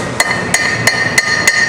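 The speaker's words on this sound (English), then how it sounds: "you can use the plain hammer and just lightly get it started on one side" A plain hammer taps a wheel seal into place during a front drum-to-disc brake conversion, with five sharp, evenly spaced metallic strikes, close and clear over a steady background hum.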